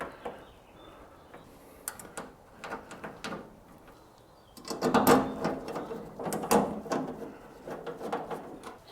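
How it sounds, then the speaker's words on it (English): Screws being driven into a tailgate latch on a Ford F100 or F250, heard as a series of short mechanical clicks and ratcheting bursts, busier and louder in the second half, with no talking. "I'm just gonna put some of the new screws in."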